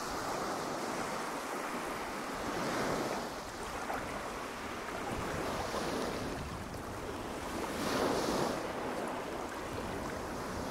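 Sea waves at the Marseille waterfront: a steady, broad wash of surf that swells and eases every few seconds, with some wind noise and no voices.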